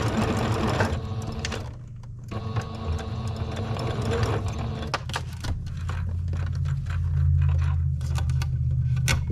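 Sewing machine stitching the sides of a fabric bowl cozy together, a loud continuous mechanical whir and rapid needle chatter with a short pause and changes in speed, heard close up without talking.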